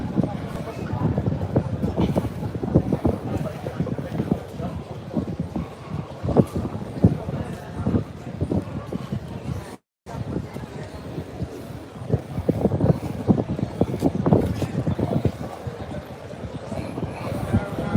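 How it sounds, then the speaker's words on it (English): Strong wind sweeps the seafront at Southend, a loud, continuous blustery roar buffeting the microphone in gusts for the whole stretch, with a brief dropout midway and faint, indistinct voices buried underneath. "I think it's very windy."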